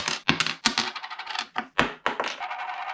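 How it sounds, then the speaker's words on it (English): A coin slips from the fingers and drops onto a hard surface, giving a close, bright series of clinks and rattles as it bounces and spins before settling. "instead of the coin falling out of your fingers and doing this,"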